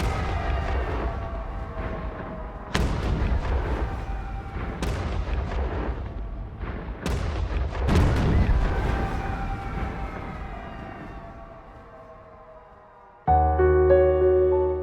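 Deep booming blasts of World War II artillery and explosions go off one after another, several heavy explosions with rumbling tails, ending in a sudden burst of louder noise.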